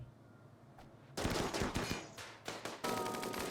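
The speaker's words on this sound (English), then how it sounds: "Time for a flurry of gunfire." Turrets fire in the video game Rimworld: rapid bursts of automatic gunfire break out after a quiet start, several clustered volleys crackling loud and close, with no talking.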